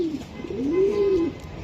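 A club-banded racer pigeon gives a single drawn-out, low cooing phrase close by, swelling and then fading, with no talking.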